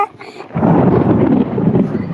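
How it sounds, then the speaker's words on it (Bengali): A deep roll of thunder from a passing storm starts after a short quiet moment and rumbles on, loud and steady, for nearly two seconds. "মেঘ ডাকছে"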